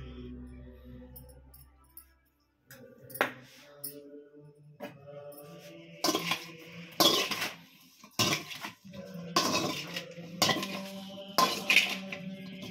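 Pepper powder, salt and cornflour marinade mixed by hand in a bowl, with repeated close metallic clinks and scraping of utensils against the dish in an uneven rhythm, loud and alone.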